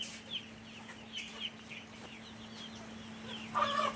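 Desi chickens on a poultry farm cluck softly and intermittently against a steady low hum, with a louder burst of clucking near the end; no voices are heard.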